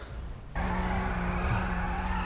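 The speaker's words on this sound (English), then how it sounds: "I just hear a massive car." A car in GTA 5 revs loudly, with an engine drone and a tyre squeal or skid starting abruptly after a brief quieter moment.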